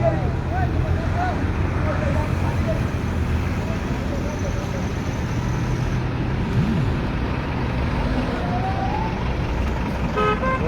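Dhaka-bound vehicles creep slowly through an underpass on the Dhaka-Tangail highway at Pouli near Elenga bus stand in Kalihati, Tangail, giving a constant roadway rumble with occasional horn toots, heard beneath steady talk.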